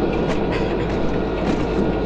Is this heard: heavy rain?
no